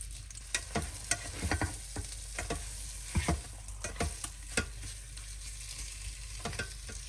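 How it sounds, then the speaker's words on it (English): Beef sautés in melted butter and oil in a slow cooker, a constant sizzle broken by repeated sharp scrapes and clacks of stirring across the whole stretch. "now I'm going to send meat to sauté in slow cooker for about 10 minutes"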